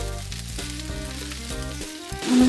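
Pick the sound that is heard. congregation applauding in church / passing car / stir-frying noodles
stir-frying noodles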